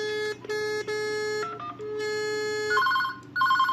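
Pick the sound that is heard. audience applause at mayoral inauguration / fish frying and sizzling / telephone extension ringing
telephone extension ringing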